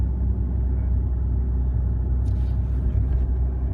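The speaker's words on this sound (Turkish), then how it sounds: "İkinci vites. Ve aracımız kendi kendini iniyor yokuştan." A car rolls downhill in second gear with no pedals pressed, its engine braking as a continuous low, loud rumble and drone that holds steady throughout.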